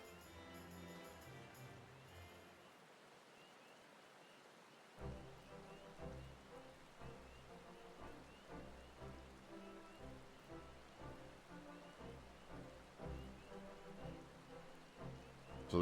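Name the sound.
rain in Final Fantasy XIV video game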